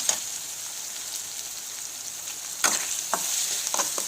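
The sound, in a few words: ginger garlic paste frying in tempering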